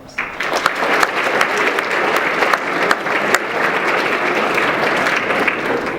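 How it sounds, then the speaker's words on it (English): A hall audience at a Kansas DECA state conference applauds loudly and steadily, a full, continuous round of clapping with sharp individual claps standing out across six seconds. "Please join me in giving them a round of applause."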